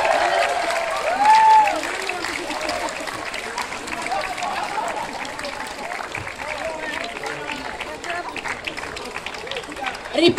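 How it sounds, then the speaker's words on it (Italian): Crowd applause at a Guinness world record attempt. Scattered clapping mixes with crowd noise and chatter at a moderate, uneven level, with a brief louder swell early on. "Facciamo un grande applauso!"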